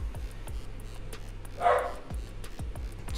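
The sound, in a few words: dog barking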